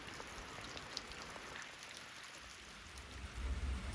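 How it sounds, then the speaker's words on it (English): Rain falls at an off-grid tiny cabin high in the Colorado mountains, a soft steady patter of drops on surfaces, faint and even, with a low rumble swelling near the end. "This rain doesn't seem to be letting up"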